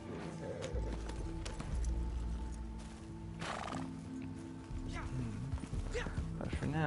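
A horse in the Western game Red Dead Online whinnies loudly and close, with hooves clip-clopping and some game ambience around it, while someone talks over the sounds.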